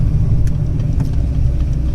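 Close, loud idle from a Ford Foxbody Mustang 5.0 with an aftermarket camshaft: a rough, uneven low-end burble that keeps loping without letting up, and no voices over it.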